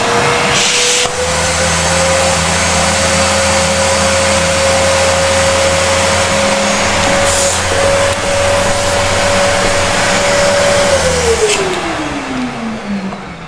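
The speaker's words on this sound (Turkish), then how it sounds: "Süpürgemizi çalıştırıyoruz." An İhlas Aura Stilvac water-filter electric vacuum cleaner runs steadily at close range with a constant motor whine and low hum, then powers down as the pitch glides lower near the end.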